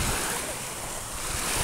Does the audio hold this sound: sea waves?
yes